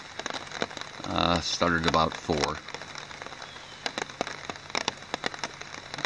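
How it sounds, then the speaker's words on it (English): Light rain patters on a tent during a morning camp on a hiking trail, a scattering of soft close taps as someone speaks briefly at the start. "we are experiencing a little rain this morning."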